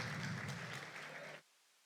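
Audience applause after a cultural performance at a development bank's 20th anniversary event: a dense, even burst of clapping that stops abruptly into near silence about a second and a half in.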